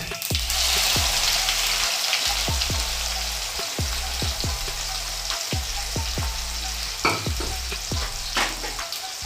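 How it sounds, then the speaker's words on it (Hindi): Steady sizzling of onions frying in a pan, with regular scraping and stirring knocks from a spoon throughout. "फ्राई करेंगे प्याज को।"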